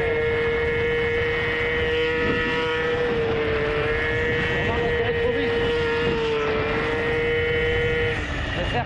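A moped fitted with a 75cc AV10 kit revs hard under throttle, a high, steady, buzzing two-stroke whine held close and loud for several seconds, with someone speaking French over it.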